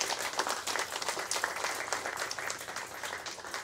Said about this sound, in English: Let us give them a round of applause for returning home